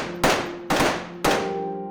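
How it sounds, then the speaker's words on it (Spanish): Three sharp, loud gunshots fired from a pickup truck crack out at even intervals, each with a short ringing decay, close by and with no voices. "desde arriba de la unidad comenzaron a sonar las detonaciones de arma de fuego"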